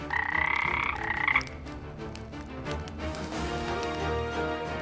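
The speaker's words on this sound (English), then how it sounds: "The room filled with croaking and hissing until the widow fled into the yard" Toads croaking in a room, a buzzy rattling chorus that starts loud and rhythmic and then continues as a denser, softer croaking background in a dramatized fairy tale.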